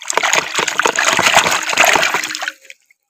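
Running water splashes and trickles close-up as a toy shark is washed, a busy gush lasting about two and a half seconds before cutting off into silence.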